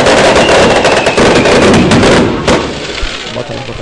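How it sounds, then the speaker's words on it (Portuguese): Fireworks launched from a hotel rooftop burst in front of a parish church during a town festival procession in Orobó, Pernambuco, a dense, continuous rumble of crackling blasts with one sharper bang near the end, loud and close. "Vocês agora com imagens aí dos fogos de artifício aqui na frente da Igreja Matriz, os fogos saindo lá de cima do Hotel Pousada Guiar."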